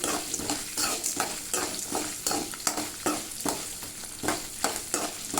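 Fenugreek seeds and urad dal sautéing for a mint-coriander chutney, a steady sizzle broken by repeated rhythmic scrapes of a spoon stirring in the pan, close and fairly quiet, with no talking.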